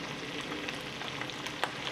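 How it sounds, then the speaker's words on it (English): Bacon sizzles and crackles steadily in a pan, with frequent small pops and spits, close by and with no voices. "Sizzling, but we want it to get crispy golden brown"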